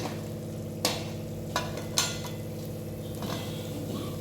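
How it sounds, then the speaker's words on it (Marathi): Vegetable stalks drop into a pan of frying masala with a few sharp metallic clanks from a spoon, then a low sizzle and soft stirring scrapes continue. "आता यामध्ये आपण हे देठ टाकून घेऊ"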